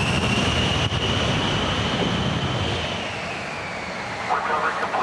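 A military jet lands on an aircraft carrier at sea, its engine roaring steadily at close range over wind and ocean noise, easing slightly near the end.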